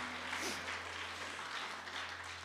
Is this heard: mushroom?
no